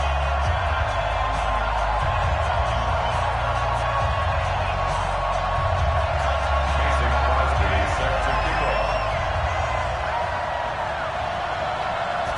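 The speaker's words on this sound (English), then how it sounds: "This crowd is ready as their guys get set to match up" Stadium crowd noise from the video game Madden 20 at a Houston Texans versus Cincinnati Bengals game in Cincinnati, a dense, steady roar of many voices with scattered cheers and whoops, loud and continuous throughout.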